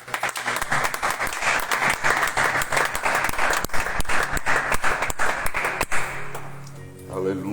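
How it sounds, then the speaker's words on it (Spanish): A church congregation claps loudly for the Lord after a closing prayer at a Bible study, dense steady clapping with sharp individual claps that dies away near the end. "Damos un fuerte aplauso al Señor"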